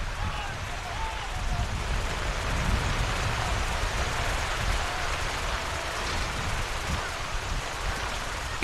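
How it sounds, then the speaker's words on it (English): Heavy rain pours steadily throughout a men's college soccer match between Lenoir-Rhyne and Catawba, a dense, continuous hiss with some talk underneath. "You can hear the rain just absolutely coming down."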